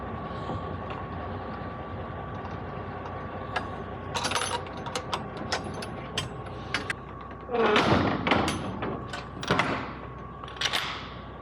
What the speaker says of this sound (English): I might be able to swing that side closed.